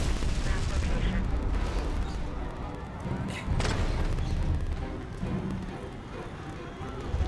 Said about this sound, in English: Tango's got a rocket launch.